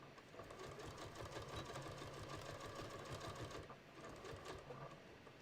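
A sewing machine stitches a strap on a beach tote, running steadily and continuously up close with a brief dip partway through, with no talking.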